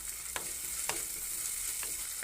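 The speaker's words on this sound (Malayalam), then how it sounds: "അപ്പോൾ ഇനി നമുക്ക് സവാള നന്നായിട്ട് വഴറ്റാം" Onions sautéing in a pan, a dense, steady hiss of frying punctuated by a few quick knocks and scrapes of a spatula, close up with no voices.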